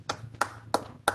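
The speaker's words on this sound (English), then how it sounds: "please give a big round of applause for Pawan Garg" Four slow, separate hand claps at a speakers forum meeting, crisp and close with short quiet gaps between them, sparse rather than a full crowd.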